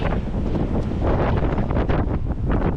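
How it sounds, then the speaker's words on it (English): Loud, constant wind buffeting the microphone, a dense low roar with gusty swells and no voices. "And it's windy as hell."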